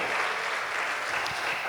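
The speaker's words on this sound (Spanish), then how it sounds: "Damos aplausos al Señor." Steady, dense applause from a church congregation praising the Lord during a Spanish-language service, continuous clapping filling the whole moment without pause.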